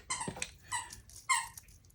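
A puppy whines in three short, squeaky bursts with brief gaps between them. The sound is fairly faint and close, in a quiet indoor room.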